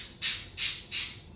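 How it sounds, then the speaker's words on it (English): A pet bird in a room full of houseplants gives three loud, sharp squawks in quick, even succession, close by and with no talk over them. "Sorry, that's my bird."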